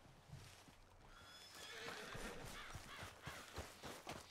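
Horse whinnying in Red Dead Redemption 2, a fairly close neigh with a few rising squeals, set over steady outdoor game ambience and scattered hoof and footstep thuds.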